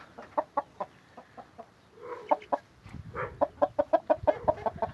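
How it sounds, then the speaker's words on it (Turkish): An Aseel rooster clucks in short, rhythmic bursts, close and fairly loud, with a brief pause and some rustling before a faster run of clucks. "Yani güzel bir horoz."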